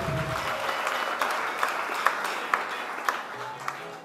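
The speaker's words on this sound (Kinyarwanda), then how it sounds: "dukomere Imana amashyi" Congregation applauding inside a church during a service, a broad wash of clapping with a few sharper claps standing out, steady and fairly close, with a faint voice briefly underneath.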